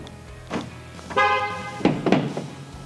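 Pickup truck with a BAKFlip Fibermax hard folding bed cover locks by remote, giving a single short horn chirp between soft clicks and thunks of the latches nearby.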